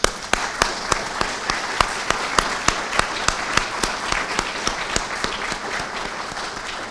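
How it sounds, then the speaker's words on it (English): Steady applause fills a press conference room, with sharp individual claps standing out from a dense wash of clapping; loud and continuous for several seconds before easing slightly. "You think that applause was loud,"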